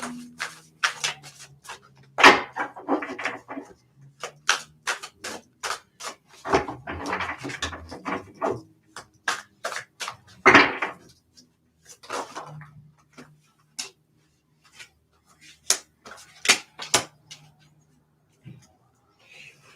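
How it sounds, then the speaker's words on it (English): Tarot cards being shuffled, bursts of riffling and soft snapping card sounds with gaps between, close and fairly quiet, and a low hum in the background. "I'm going to shuffle one more time"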